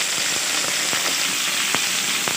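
Potatoes and pointed gourd fry in a pan of oil, giving a steady close sizzle broken by a few sharp clicks and scrapes of stirring, with no talking.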